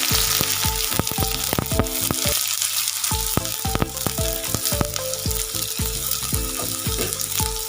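Onions frying in oil with five-spice and a dried red chilli for an egg and brinjal bharta, a steady close sizzle broken by repeated scraping stirs, briefly quieter around two seconds in.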